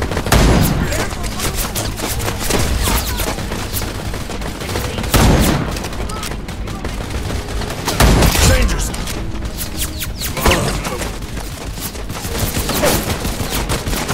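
Gunfire in the video game Wild Assault rattles on steadily as dense, loud automatic bursts with heavier impacts at intervals, with voices speaking under the continuous shooting.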